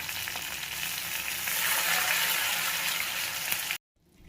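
Ground raw onion and tomato paste hits a hot kadai with mustard seeds for onion chutney, giving a loud, steady, close sizzle that builds slightly, then cuts off abruptly to near silence.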